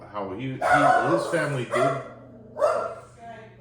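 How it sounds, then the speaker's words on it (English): A dog barks repeatedly nearby in a home setting, several loud woofs rising over someone talking and continuing intermittently beneath the conversation. "Pardon for the dog."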